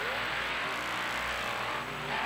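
Monster truck engines at a 1999 Monster Jam event in Orlando, a steady, loud roar with broadband crowd and arena noise throughout, no talk over it.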